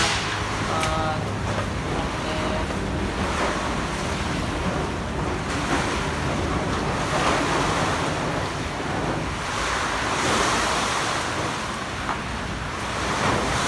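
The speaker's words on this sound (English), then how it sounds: "Like the wind blowing the water." Typhoon wind blowing over floodwater in the Philippines, a loud continuous roar of gusts and churning, surf-like water that surges and eases without letup.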